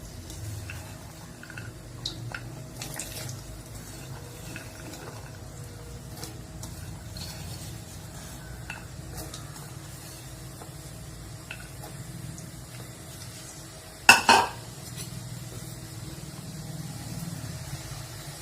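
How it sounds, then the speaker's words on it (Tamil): Pirandai, the adamant creeper, fries and is stirred in hot oil, giving a steady low sizzle with scattered light ticks. One sharp clatter comes near the end, and no one speaks. "இந்த பிரண்டைய இப்படியே இந்த எண்ணெயில இப்படி கொஞ்சம் கொஞ்சமா அப்படி கிண்டி விட்டுக்கிட்டே இருங்க"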